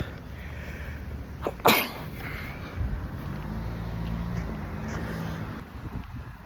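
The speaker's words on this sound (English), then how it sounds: "my core hurt so much when I sneezed" A single sharp sneeze bursts out over steady wind-like background noise, close and loud, followed by quieter rustling.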